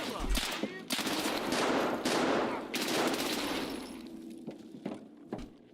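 Video game gunfire in Escape From Tarkov, rapid automatic bursts with sharp cracks and glassy, shattering impacts, loud and dense at first, then thinning into scattered single shots.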